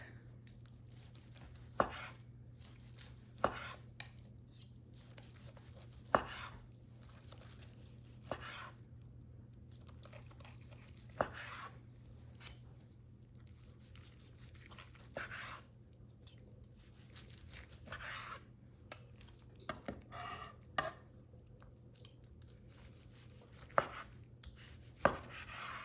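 Sharp, isolated knife cracks as a blade works through the bones of a spatchcock turkey, quiet clicks spaced several seconds apart over a low steady hum.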